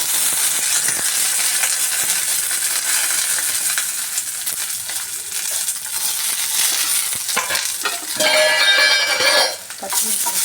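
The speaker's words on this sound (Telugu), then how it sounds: "పచ్చిమిర్చి వేసుకొని కొద్దిగా ఫ్రై చేసుకొని" Green chillies fry in hot oil in a pan for brinjal chutney, giving a loud, continuous close sizzle with scattered scrapes and a brighter crackling burst near the end.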